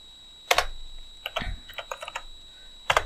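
Computer keyboard typing while working in Blender 2.8, a few scattered key clicks and a short burst of quick keystrokes, close and crisp in a quiet room with no voices.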